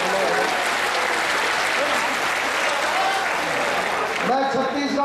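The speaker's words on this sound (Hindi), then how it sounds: "जोरदार तालियों के साथ अभिनंदन करें।" Loud, sustained applause from a large audience at a BJYM youth wing state convention in Chhattisgarh, continuous throughout, with some voices and crowd noise mixed in near the end.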